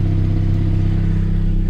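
A Saab 9000 2.3 CSE with a five-speed idles close by, its exhaust giving a loud, steady, deep burble with an even pulsing throb, no talk.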